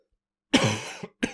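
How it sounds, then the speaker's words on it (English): A single throaty cough followed by a short second cough, close and alone against silence. "I have a tickly cough for some reason"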